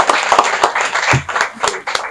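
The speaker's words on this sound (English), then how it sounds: "So clap for him again" An audience claps at a business event in Nigeria with brisk, dense applause, loud and close. A voice briefly cuts in partway through.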